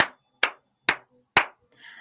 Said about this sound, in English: clap like this